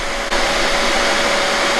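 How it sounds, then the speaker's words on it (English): Vacuum cleaner running steadily at close range, a loud continuous whirring drone with a brief dip near the start and no talking. "Can you turn the vacuum off?"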